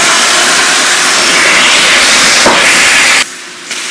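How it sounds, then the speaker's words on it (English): White wine poured into a hot pan of browned rice to deglaze it, giving a loud, steady sizzling hiss close up that cuts off abruptly near the end. "We're just going to deglaze the pan and bring the flavors together with a little bit of white wine."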